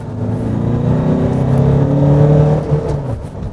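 Tata Safari 2021 SUV engine accelerating, a loud close rising drone with climbing harmonic tones that builds for a few seconds before easing off.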